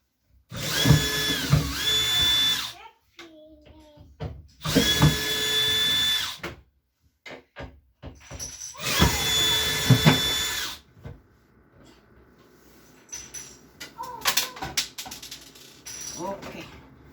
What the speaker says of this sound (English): remove all the hinges from the door.